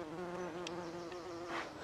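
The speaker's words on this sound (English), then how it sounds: "very busy little bee in here today" A bee buzzes close among Roma tomato plant flowers in a garden, a steady, loud drone that stays near and continuous with small shifts in pitch as it moves around.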